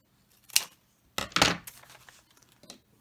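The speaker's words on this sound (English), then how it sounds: "Let me get my scissors out here." Scissors cutting cardboard to make a frame, heard as a few sharp crisp snips and scraping crunches in short bursts close by, with quiet gaps between them.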